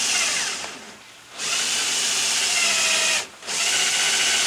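A power drill bores a hole in wood, its steady high whine running loud and close, pausing twice briefly before spinning up again.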